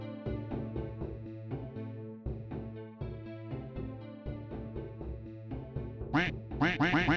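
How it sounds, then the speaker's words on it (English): Ducks quack repeatedly in a modded Minecraft game, stacked over looping harmonic game music, with louder, brighter quacks bunching together toward the end. "These quacks."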